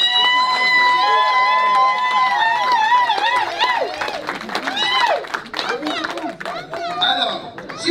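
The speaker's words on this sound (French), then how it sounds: "on les applaudit s'il vous plaît" Guests at a dowry ceremony cheer and clap, loud and close. Shouts and chatter layer over the clapping, which grows more scattered toward the end.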